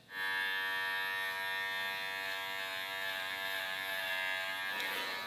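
A Woner electric hair clipper trims a neckline, a close, steady buzzing hum that holds evenly for several seconds with a brief shift in tone near the end.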